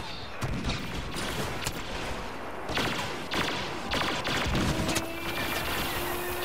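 Blaster gunfire rattles in a Star Wars Battlefront match, a rapid series of loud close shots and impacts in bursts over a dense, noisy battle background.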